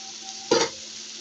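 Sliced snake gourd frying in a pan gives a steady soft sizzle, with a short louder burst of stirring and spitting oil midway through.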